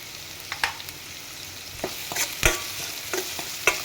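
Ingredients stir-fried in a pan for a wedding-style South Indian rasam, with intermittent scraping stir strokes over a soft, steady background sizzle, close and moderately loud, no talking.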